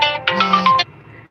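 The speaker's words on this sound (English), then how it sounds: "my phone is ringing." A synthetic phone ringtone plays a short bright melodic phrase with a steady low tone underneath, loud and close, then cuts off.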